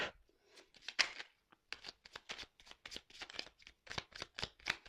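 Oracle cards are shuffled by hand in a quiet room, giving a rapid, steady series of crisp riffling flicks with short pauses between bursts.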